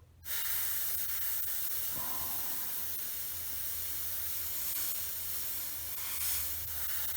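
An airbrush sprays paint onto a Tamiya 1/48 F4F-4 model, a close, steady hiss that starts abruptly and holds evenly with slight swells.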